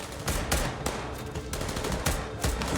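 Sustained automatic gunfire from a Squid Game episode, loud and close, with rapid bursts and sharp repeated shots filling the whole stretch and no talk over it.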